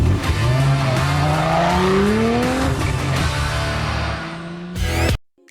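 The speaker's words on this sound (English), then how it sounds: "the real soundtrack comes from the engine" A Lotus Emira sports car engine revs and climbs through the gears, loud and close, with tire noise and a final sharp roar before cutting off.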